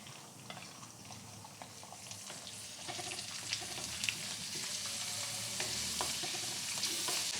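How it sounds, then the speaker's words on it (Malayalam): Raisins frying in ghee in a pan while payasam is being made, giving a steady, close bubbling sizzle with stirring scrapes throughout and no voices. "ഇനി നമുക്ക് മുന്തിരിയും കൂടി ഇട്ട് കൊടുക്കാം കേട്ടോ."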